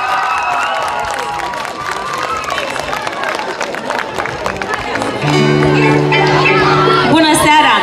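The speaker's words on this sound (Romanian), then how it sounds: "Aplauze!" Audience at an autumn fair stage show applauds and cheers as musicians with zither, piano and drum are introduced, a loud crowd roar with whoops and clapping, then sustained instrumental tones entering under the noise.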